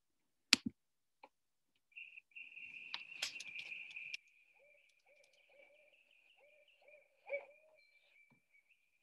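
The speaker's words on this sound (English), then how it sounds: "the first call we're going to listen to is the barred owl." A barred owl's hooting call, a run of rhythmic hoots with a sustained trill-like tone, clear and close against a quiet background with faint insect chirps, recorded as a nature sound sample.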